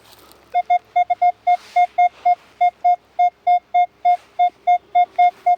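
A metal detector beeps over a copper coin from 1905 in a steady repeating tone, about two dozen short identical pulses at an even rhythm, loud and clear.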